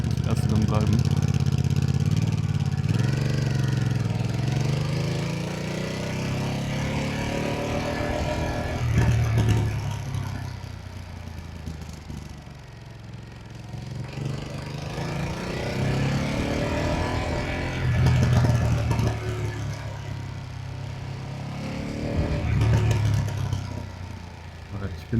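A 2025 Ducati Panigale V2S motorcycle engine pulls in first gear with the pit limiter engaged, rising and falling in repeated revving surges under steady wind noise while a rider talks over it.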